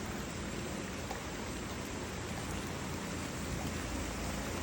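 Heavy rain falls in a dense, even hiss that holds steady without pause, sounding close and uniform with no voices over it.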